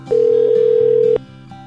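A telephone call rings back with a steady electronic tone that holds for about a second at close, loud level. It then drops to a quieter background hum.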